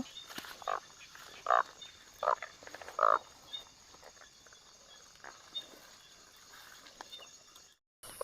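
Frogs croak in rainy night air, four or five distinct, moderately loud calls in the first few seconds spaced about a second apart, then quieter scattered croaks over a steady hiss of rain.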